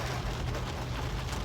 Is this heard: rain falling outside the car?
yes